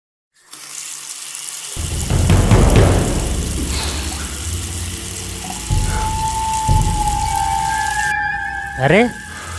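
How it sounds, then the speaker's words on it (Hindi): Water gushes from an open tap, a loud, close splashing rush that swells and settles, and a tone rises near the end. "अरे ये नल ला फिर कौन खुला छोड़ दे है?"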